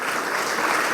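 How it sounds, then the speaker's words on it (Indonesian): Loud, dense clapping from a church congregation at a Sunday worship service in Batam, a continuous wash of hands with no gaps. "Beri tepuk tangan lagi buat Tuhan kita"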